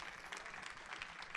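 Congregation clapping in a church service, a short dense patter of many hands heard faintly and at a distance, steady without voices over it.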